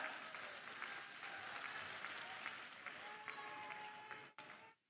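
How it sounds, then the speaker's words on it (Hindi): A large crowd at a political rally in Sawai Madhopur, Rajasthan applauds in a faint, distant, steady wash of clapping that runs throughout and drops away abruptly near the end. "जोरदार ताली बजाएं।"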